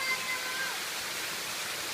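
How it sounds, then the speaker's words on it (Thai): Small waterfall at the Khao Ang falls, Ban Bueng, Chon Buri, a steady broadband rush of falling water that stays even and fairly close throughout, with no other sounds standing out. "ตรงนี้ก็จะมีน้ำตกเล็กๆ"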